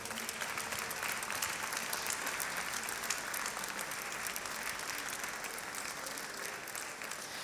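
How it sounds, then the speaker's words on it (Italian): Steady audience applause for a Sardinian choir at a Sant'Efisio choral event, even, continuous clapping from a crowd that holds at a constant level throughout without a break. "Prego, un applauso anche a loro."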